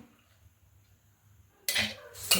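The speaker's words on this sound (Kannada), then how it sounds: "ಅದಕ್ಕೆ ಈ ಕಡಲೆಬೇಳೆನ ಹಾಕ್ಕೊಳ್ತೀನಿ" Split Bengal gram (chana dal) tipped into a mixer jar, heard as a short loud rattling burst of hard grains hitting the container, then a brief pause and a second shorter pour, after a quiet low hum.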